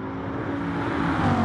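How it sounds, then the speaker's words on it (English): A race car engine revving in GT Sport, a loud, deep, continuous engine drone that rises steadily in pitch over a second and a half, with no talk. "That car sounds like a monster."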